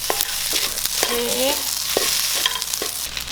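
Glass noodles and egg stir-frying in a pan with a loud, close sizzle, broken by repeated spatula scrapes and tosses at an irregular rhythm.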